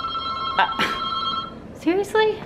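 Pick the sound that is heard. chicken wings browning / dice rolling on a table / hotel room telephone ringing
hotel room telephone ringing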